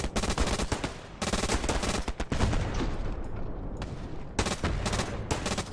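Sustained machine gun fire in the WW2 shooter Hell Let Loose, dense rapid bursts that rattle almost continuously at close range, broken by brief pauses and mixed with more distant gunfire.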